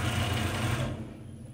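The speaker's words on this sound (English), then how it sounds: "if I spin it up to the max RPM, you can see it's working pretty fine" A Consew CSM3000 servo motor driving a mini lathe hums at high speed, a dense steady drone that drops off sharply partway through the short burst, with no voices.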